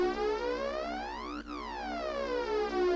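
Sustained layered Serum synth patch with fewer voices, a bright harmonic chord whose partials sweep in mirrored phasing arcs, steady and alone with no talk over it.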